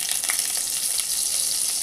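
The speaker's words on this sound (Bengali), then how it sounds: "এতে আমি আলুটা দিয়ে ভেজে নেবো" Potato pieces fry in a little oil, giving a brief, even, close sizzle that holds steady without a break.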